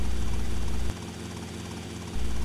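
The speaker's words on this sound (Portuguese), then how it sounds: "Tentar pousar sem destruir o helicóptero." Helicopter rotor drone from GTA Vice City, loud and steady, thinning out for about a second in the middle as the aircraft sets down, then swelling back to full strength.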